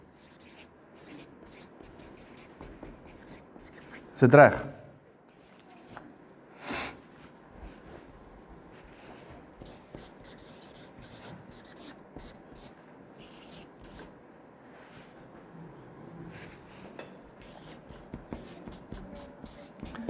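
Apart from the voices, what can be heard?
writing by hand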